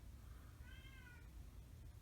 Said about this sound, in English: that's my cat meowing for some unknown reason